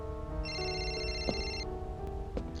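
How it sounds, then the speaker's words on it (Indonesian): A telephone rings from inside a suitcase in a film. The ring is faint and muffled, a single warbling electronic burst with a few soft knocks around it. "nomor yang ia hubungi tersambung ke telepon di dalam koper milik ayahnya"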